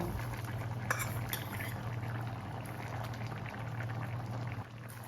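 Hang Le curry with sliced ginger and sugarcane sugar simmering in a pot, a steady close bubbling boil with a low continuous hum underneath, no voices.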